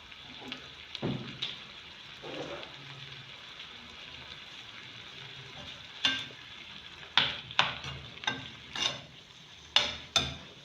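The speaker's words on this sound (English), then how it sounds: "You have to fry it for the color to change." Meat pie filling fries in a pan, a soft sizzle under repeated scraping and stirring strokes, the spoon clacks coming in sharp bursts toward the end, fairly close and quiet, no voices.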